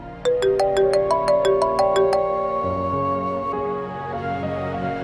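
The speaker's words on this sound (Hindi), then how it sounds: "सलमान का फोन" A bright electronic phone ringtone plays a repeating melodic pattern of chiming notes, steady and fairly loud with no voices.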